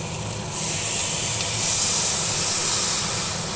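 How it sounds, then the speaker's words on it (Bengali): Water poured into a pan of frying potatoes bursts into a loud, steady steaming hiss that swells after a brief quieter start and holds throughout, with no talking. "এবার জল দিয়ে দেবো।"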